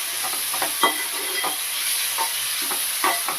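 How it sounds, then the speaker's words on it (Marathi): Onion and tomato stirred in a pan over medium heat for a Maharashtrian dried-shrimp dish, with repeated scraping strokes of a spoon over a constant soft sizzle and no voices. "व्यवस्थित असं मिक्स करून घेतलं कांदा टोमॅटो"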